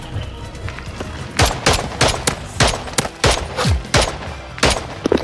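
Gunfire from a Call of Duty Modern Warfare III Search and Destroy match: a string of loud, sharp shots, single and in quick bursts, spaced irregularly over several seconds with game ambience between.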